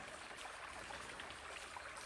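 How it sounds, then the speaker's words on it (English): Small waterfalls flowing in the woods give a steady, even rush of trickling water, faint and continuous throughout, with no voices. "Super peaceful, little waterfalls everywhere."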